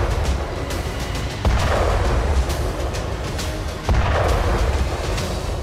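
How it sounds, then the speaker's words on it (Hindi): Two heavy booms from drone-triggered blasts inside a basement land a couple of seconds apart, each a sudden loud burst over a constant rough roar, with no voices. "लेकिन ड्रोन के जरिए बेसमेंट के भीतर धमाका कराया गया"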